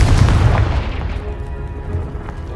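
A Confringo blasting spell explodes against a pile of debris in Hogwarts Legacy: one loud, deep booming blast up close, its heavy rumble slowly decaying over a couple of seconds.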